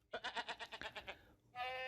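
A goat bleats in a quick run of short, pulsing cries, then pauses briefly before one sustained, tonal bleat, all fairly quiet and alone.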